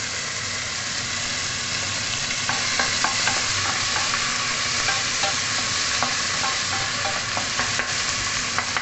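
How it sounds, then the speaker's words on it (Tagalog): Tomatoes added to a pot of salmon sinigang, a steady loud sizzle with scraping stirring clicks throughout, close up and with no talking. "ilagay natin yung ating kamatis"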